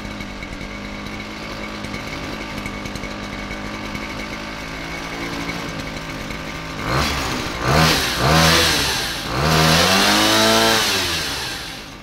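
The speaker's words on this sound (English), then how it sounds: "Basically a weed eater engine," Small motorcycle powered by a weed eater engine idles with a high, buzzy two-stroke drone, then revs up several times in rising and falling bursts, loud and close.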